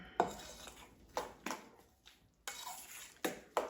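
Spoon stirring whole wheat dough in a bowl, a handful of separate scraping clinks against the bowl spaced unevenly, quiet and close with no talk.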